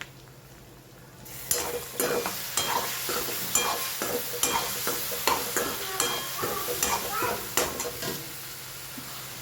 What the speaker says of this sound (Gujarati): હવે આપણે એમાં નાખીશું લીલા મરચાંની પેસ્ટ